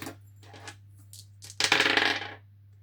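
Dice clatter onto a table with a few light taps, then a louder burst of rattling as they tumble and settle, close and alone.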